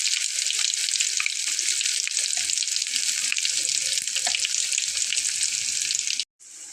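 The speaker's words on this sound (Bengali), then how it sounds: "দেখুন ঠিক এভাবে আমি হালকা করে এগুলোকে ভেজে নেব।" Cauliflower and flour snack fritters fry in hot oil, a loud, dense, steady sizzle with faint crackles over it, close by, breaking off briefly near the end.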